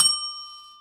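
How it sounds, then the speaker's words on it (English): A small handheld bell is struck once close up, giving a bright ding whose clear tone rings on and fades slowly in an otherwise quiet room. "I do have a bell, and I got it ready"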